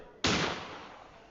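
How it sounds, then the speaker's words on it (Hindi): A single loud gunshot from the Granny video game, a sharp close crack with a short decaying tail and no other sounds. "गोली चला दिया।"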